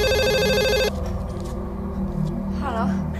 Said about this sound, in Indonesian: Ia dibangunkan suara telepon.